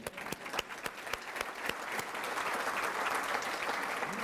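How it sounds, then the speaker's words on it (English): Audience applause for college legacy society members at a conference on a community college campus, beginning with a few scattered sharp claps that quickly swell into sustained, full clapping from the seated crowd. "We'll applaud you anyway."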